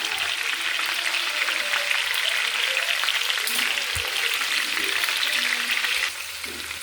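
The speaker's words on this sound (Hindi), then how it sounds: "लहसुन अदरक भी अच्छी तरह से भून चुका है और ये भी फ्राई हो गया" Garlic, ginger and cumin fry in a pan for chicken biryani, giving a loud, dense, steady sizzle up close that eases slightly toward the end, with no talk over it.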